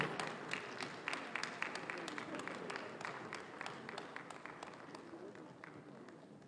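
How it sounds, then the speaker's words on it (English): Applause from an audience at an award recognition ceremony, a steady dense patter of many hands clapping throughout, moderately loud, with a murmur of crowd noise underneath. "A round of applause, please"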